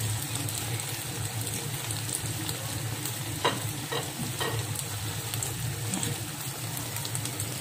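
Eggplant and spring onion stir-frying in a pan, a steady close sizzle with occasional stirring scrapes and clinks throughout.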